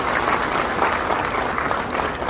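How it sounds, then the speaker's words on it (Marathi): A crowd at the Mahalakshmi Saras 2026 closing event breaks into dense, continuous applause for the state-level team, a full, steady roar of many hands with no pauses. "आपल्या सर्वांना विनंती आहे की राज्यस्तरावरच्या टीमसाठी एक जोरदार टाळ्या"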